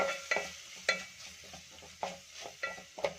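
Spices stirred in a hot pan for a palak chana curry, giving a steady run of close scraping strokes over a soft sizzle, with no one talking.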